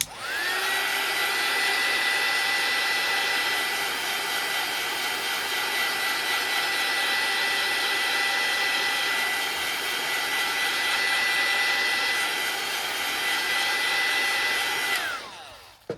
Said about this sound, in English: just get my air dryer. It won't take long to dry.